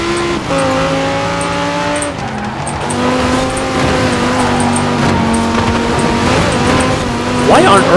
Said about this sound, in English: This is, by the way, a bone stock Audi R8 V10